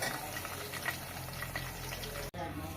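Vegetables and curry leaves frying in oil in a home kitchen pan, a steady faint sizzle and bubbling that runs continuously, with a brief dropout near the end.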